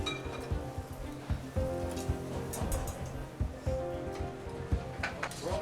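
Spaghettini alle vongole cook risottato-style in a pan with added water in an Italian restaurant kitchen in New York, giving faint bubbling and sizzling with occasional clinks of clam shells and utensils against the pan.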